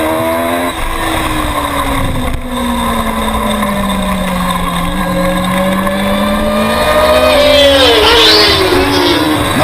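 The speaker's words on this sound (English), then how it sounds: "Michael Pond on probably the loudest bike known to man, bike 27." Loud dirt bikes race in a WSMC novice open mod production event, with bike 27 among them. A close engine note drones and shifts pitch, then revs higher and louder toward the end under faint commentary.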